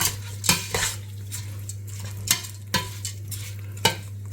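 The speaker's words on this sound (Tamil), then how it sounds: "அதை லைட்டாக அப்படியே இதில் கிளறி விட்டுட்டு" Spoon scraping and stirring rice in a metal pot for Arabian chicken kabsa biryani, with several distinct clanks and scrapes at irregular intervals over a steady low hum, no voices.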